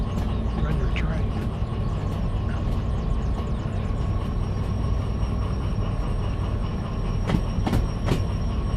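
A train runs steadily through the Derail Valley railway simulator game, giving a continuous loud rumble with faint rhythmic wheel clicks and a few sharp squeals near the end, and no talk over it.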